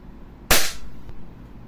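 A single sharp crack from a Glock 17 Gen 5 gas BB pistol firing a BB during a chronograph speed test, loud and close, followed by quiet room tone.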